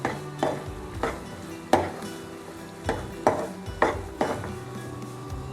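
Banana mustard curry being stirred in a pan, with a series of about eight distinct scraping clatters of a utensil against the pan and a faint sizzle underneath, no one speaking.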